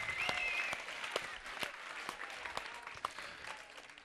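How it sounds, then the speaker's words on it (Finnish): Steady applause from a crowd at a band competition, loud and continuous, with scattered claps standing out and a faint cheer near the start. "Sille hurjat aplodit!"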